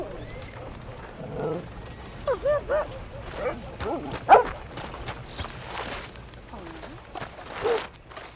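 A dog in the western video game Red Dead gives a few short yips and whimpering whines, with one sharper bark midway, over quiet ambient game sounds and footsteps.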